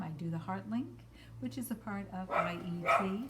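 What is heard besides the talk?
dogs barking in background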